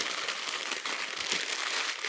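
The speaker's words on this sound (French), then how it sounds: "on va prendre nos feuilles de papier cuisson et on va les froisser" Sheets of baking paper being crumpled by hand, a steady close crinkling rustle that runs continuously without pause.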